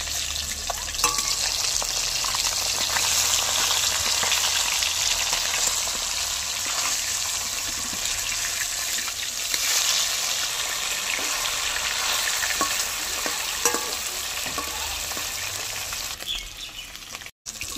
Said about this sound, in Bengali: মাছের এক পিঠ ভাজা হয়ে গেছে, এবার এক পিঠ উল্টে দিয়ে অপর পিঠটা ভেজে নেব।